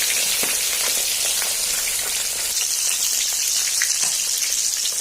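Fish deep frying in a pan of oil for a mustard fish curry, a steady bright sizzle with scattered pops and crackles, close and constant throughout.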